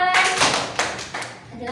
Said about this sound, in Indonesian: Satu tepuk untuk Steven.